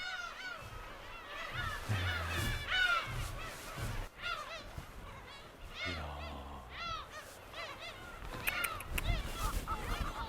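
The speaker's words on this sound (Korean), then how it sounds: "생각보다 많은 갈매기들에 잠깐 놀라기도 했는데요." Black-tailed gulls on an uninhabited island call repeatedly in a noisy flock, overlapping honking cries near and far, with a person briefly talking among them.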